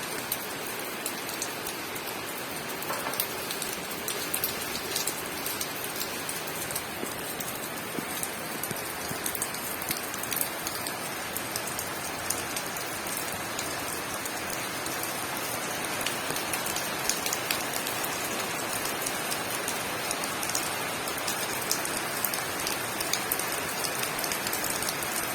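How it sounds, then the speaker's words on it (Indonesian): Heavy rain pours steadily on a quiet village, a dense continuous hiss of drops striking surfaces that grows slightly heavier over time, with no voices. "Semakin deras guys hujannya."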